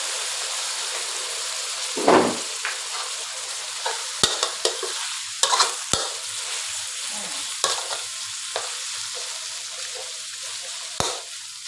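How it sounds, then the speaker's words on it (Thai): Minced pork is stir-fried in a pan, a steady close sizzle with repeated scraping and clinking of a spatula against the pan at irregular intervals. "เราก็จะผัดหมู หมูสับเนี่ยค่ะ ให้สุกนะคะ"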